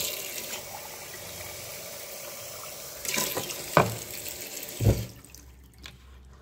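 Tap water runs into a sink in a steady stream. Heavier splashing bursts come in the middle, then the flow quiets to a softer trickle near the end.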